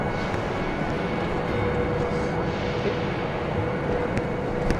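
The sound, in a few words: train arriving at platform for Tirano, Italy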